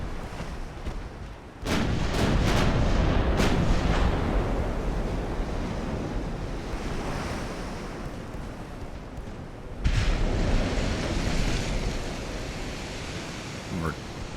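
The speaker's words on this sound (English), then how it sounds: "Detonated a torpedo." A torpedo detonates in the naval warship game Ultimate Admiral: Dreadnoughts, setting off a loud, deep broadband boom that rolls into a long rumbling roar, followed by a second heavy blast later on.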